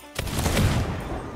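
Ship cannons fire in Sea of Thieves, a loud booming volley that bursts out at once and rumbles away over about a second.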